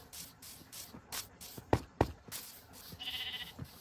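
Minecraft sheep give several short, separate bleats amid game footsteps and small clicks, with a brief spray-like hiss near the end.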